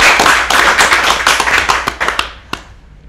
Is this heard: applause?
yes